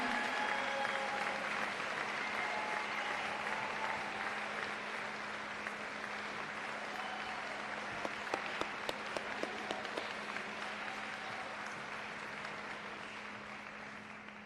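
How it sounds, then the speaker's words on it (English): Audience applause at a high school athletic awards night in Wilmington: a steady, dense wash of clapping that fills the room and carries on for the whole stretch, easing slightly toward the end. "A round of applause, please."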